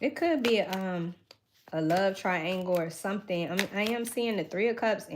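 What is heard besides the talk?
No everyday noises stand out.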